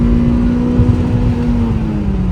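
An Opel Calibra Turbo accelerates hard in second gear, its engine a loud, close, steady drone with a rising tone throughout the brief burst.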